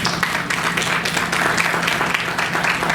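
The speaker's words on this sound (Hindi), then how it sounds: "जोरदार तालियां आपके लिए।" An audience at a World Music Day stage event claps continuously, a dense and fairly loud burst of applause that fills the whole stretch without letting up.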